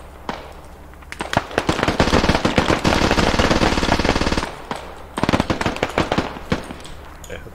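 Rapid machine gun fire from the video game Operation Desperado II. A dense, sustained burst runs for about three seconds, followed by shorter close bursts, with scattered single shots around them.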